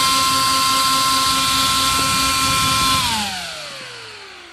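A Delta Dual blower fan runs at 12V, drawing 1.82 amps, as a loud, steady whine with a strong tonal hum, then pitch and volume drop smoothly as it spins down near the end.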